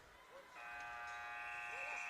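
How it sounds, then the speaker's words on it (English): An ice hockey arena buzzer sounds to end the period at a women's national championship bronze-medal game, a long steady electronic tone starting after a brief moment, distant under crowd noise, with faint sounds sliding around it. "There is the buzzer."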